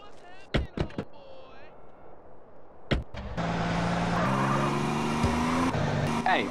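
A car driving in GTA San Andreas on mobile, engine revving up after several sharp impacts and clicks, a steady loud motor drone with shifting pitch, and tire noise toward the end.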